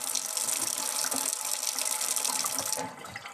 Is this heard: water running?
yes